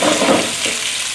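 A pork chop sears in a hot pan for a steady, close sizzle with a brief stirring scrape near the start, then an even hiss that carries on alone.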